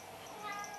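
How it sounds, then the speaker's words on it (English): Inside a guitar repair workshop, a cat lets out a brief, soft meow that is close by but quiet and lasts under a second. "there's a cat bumping me in the butt"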